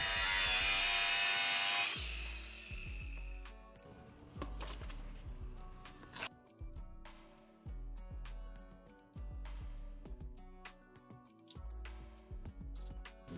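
A power tool cuts a rear plastic underbody panel for a Rivian, an opening high whine followed by a series of rhythmic grinding and clattering strokes, close and without talk.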